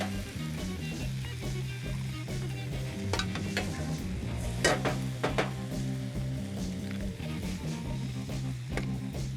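Eggs fry with noodles, bean sprouts and chives for char kway teow. A continuous sizzle runs under a steady hum while a utensil scrapes and clatters against the pan in a few bursts. Nobody speaks.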